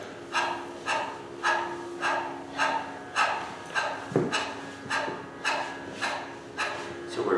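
Yoga pranayama breathing with the tongue out, dog-like panting in a steady rhythm of about a dozen even, close breaths, with a soft voice faintly underneath.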